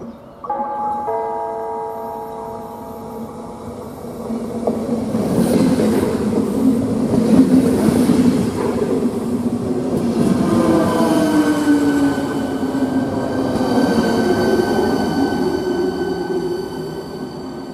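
A passenger train rumbles past at close range through Praha-Běchovice station, wheels clattering and squealing on the rails, building to a loud roar before easing off.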